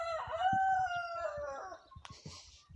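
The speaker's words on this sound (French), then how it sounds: "Au niveau des Pékin mille fleurs, donc il y a mon coq qui est là." A Pekin Mille Fleur bantam rooster crows once, close and loud, in a long drawn-out call, followed by a few softer clucks and rustling from the farm poultry around it.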